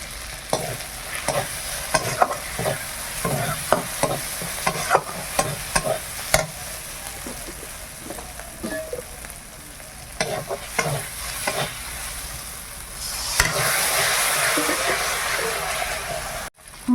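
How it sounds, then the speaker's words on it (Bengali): Spices with Kashmiri red chili and ground cumin fry in a pan, a steady sizzle broken by repeated scraping stirs, with the hiss swelling louder near the end and a voice speaking briefly. "মশলা খুব সুন্দর ভাজা হয়ে গেছে"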